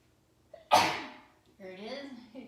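A single loud, close sneeze bursts out abruptly, followed by a short trailing breath and a voice speaking during a slow, all-levels yoga class.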